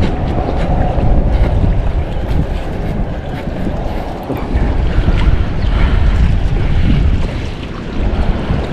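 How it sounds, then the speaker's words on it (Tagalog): Strong wind roars across the microphone on a small fishing boat at sea, a steady, loud rumbling buffet mixed with rushing water and waves, with no talk. "Malakas ang hangin."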